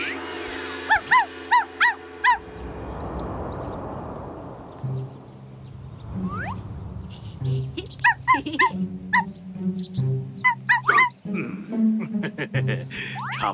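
A dog yips and barks in short bursts, then whimpers and whines intermittently, up close, with a person's voice talking at times.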